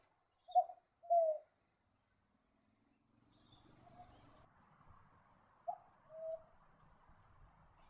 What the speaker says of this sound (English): Another bird often seen in coastal scrubland and riverside vegetation is the bar-shouldered dove.